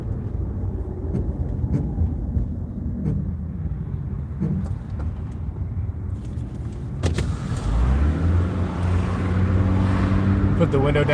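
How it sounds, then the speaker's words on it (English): A car's power window winds down partway through, a brief motor whine followed by louder road and wind rush pouring in as the vehicle drives. "Put the window down so you can hear the airship"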